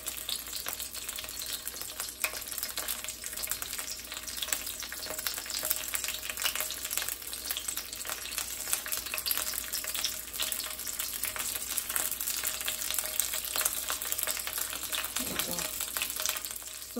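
Curry leaves fry in hot ghee in a pan, giving a steady, dense sizzle that crackles continuously at close range with no voices over it.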